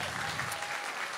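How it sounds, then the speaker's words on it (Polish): Steady audience applause at a school music concert, a dense, even patter of clapping hands filling the hall, with a faint voice underneath. "możecie tak delikatnie bić cały czas brawa"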